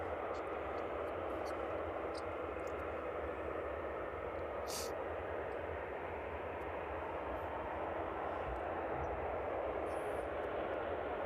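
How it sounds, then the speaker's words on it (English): A Jet2 airliner at East Midlands Airport gives off a steady, fairly loud engine roar that holds constant throughout, heard in the open evening air at the airfield. "With the Jet 2 aircraft in front of us being relatively light, not fully laden with passengers or bags, that one should be up quite quickly"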